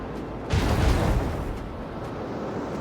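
Macro cannon volley in Rogue Trader lands as a heavy, close explosion that swells quickly and trails into a long rumbling roar, loud and alone.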